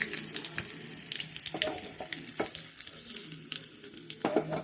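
Curry leaves and dried red chillies sizzle and crackle in hot tempering oil, with irregular pops and spits close up and no talk.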